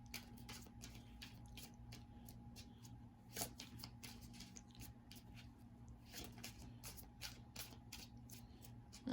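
Rapid riffling and flicking of a deck of tarot cards being shuffled, a steady run of crisp papery bursts over a low constant hum.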